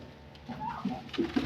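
Soft pigeon cooing, a few low murmuring coos near and fairly quiet, from a home pigeon nest where eggs were broken and eaten by a tom cat.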